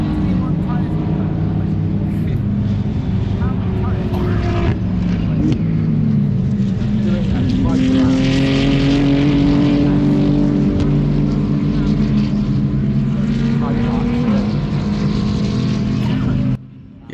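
GT race cars at Donington circuit, a loud, sustained engine drone with rising and falling pitch as the cars pass and shift, voices talking over it.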